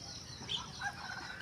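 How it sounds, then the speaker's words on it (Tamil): Chickens and other birds call faintly in a quiet outdoor setting after rain, with a couple of brief, distant clucks and chirps over soft background noise. "கோழிகளோட சத்தமும் பறவைகளோட சத்தமும் கேட்கவே அப்படியே இனிமையாக சந்தோஷமாக இருக்கும்."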